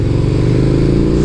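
A KTM Superduke 1290 R pulls hard in second gear, a loud, close, rough engine roar with a fast pulsing beat, steady across the moment.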